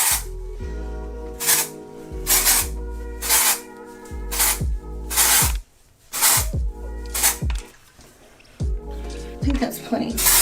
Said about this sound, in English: I'm gonna put some dry shampoo in the top of this